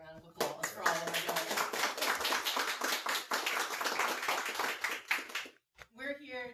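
A small group at an activist media show's 100th-episode celebration claps for donors, a short run of distinct, close claps that stops abruptly, followed by a brief voice.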